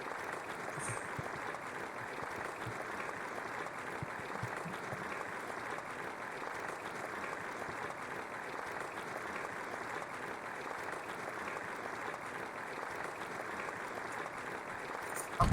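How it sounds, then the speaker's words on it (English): Faint, continuous applause in the video game Moral Dilemma: The Interview, a quiet even rustle of many hands clapping that holds steady with no voices over it. "Applause, applause."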